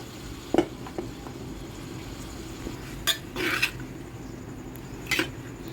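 Tomato, green chillies and crushed ginger and garlic being stirred in a pan, a few scattered scrapes and clinks of a spoon against metal over a faint background hum.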